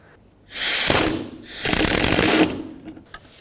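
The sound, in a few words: 3/8 inch air gun removing Volvo V70 alternator bolt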